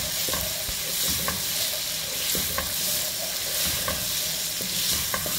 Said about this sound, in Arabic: طيب هخلي البصل لما يبقى بني